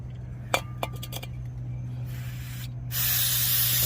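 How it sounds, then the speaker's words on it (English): Fluid is sprayed onto the front brakes of a 2008 Toyota Avalon, with a few sharp clicks of the can first, then a steady loud hiss of spray building toward the end, close by with no talk. "So let me spray"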